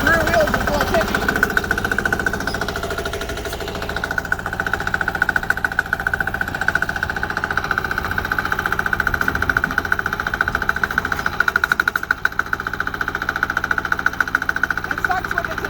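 A small 6HP diesel engine on a compact loader runs loudly and steadily, with a rough rapid knocking throb at close range. Voices come through now and then over the engine.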